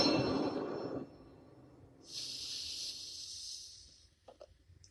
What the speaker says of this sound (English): Him vaping right there.